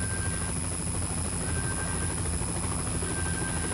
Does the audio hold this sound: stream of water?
no